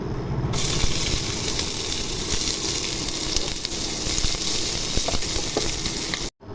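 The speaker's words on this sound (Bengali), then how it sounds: "তেল গরম হয়ে গেছে, এখন পেঁয়াজের বেরেস্তা করে নিব" Sliced onions fry in hot oil for birista, the base for a country chicken curry with bottle gourd, giving a loud, steady, close sizzle that runs unbroken until a brief cutout near the end.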